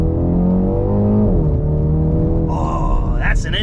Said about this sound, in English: I like the engine note.